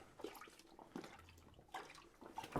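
A bull calf churns and splashes water in a drinker, producing irregular sloshing and dripping bursts, close and fairly quiet, with no voices over it.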